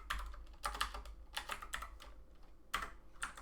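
Bursts of computer keyboard typing, close and fairly quiet, come as irregular clusters of clicking keystrokes with brief pauses between them, and no talk.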